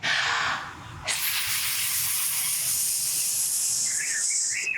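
A group of people in a yoga class imitate a snake's hiss, one long loud breathy hiss after a short earlier burst, sustained for several seconds with a faint sound near the end.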